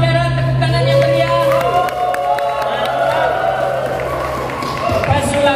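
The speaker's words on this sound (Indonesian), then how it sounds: "Pesulap Merah, tepuk tangan yang meriah." Audience cheering and whooping mixed with applause fills a comedy roast show. The crowd noise is loud and continuous, with voices shouting over it.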